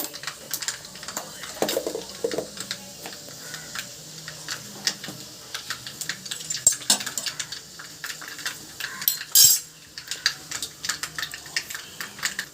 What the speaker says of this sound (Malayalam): കടുക് ഒന്ന് പൊട്ടിക്കഴിയുമ്പോൾ അതിലേക്ക് ഉലുവ